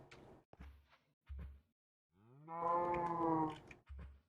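A Minecraft cow moos once, clear and fairly loud, amid short game clicks and thumps, with no talking.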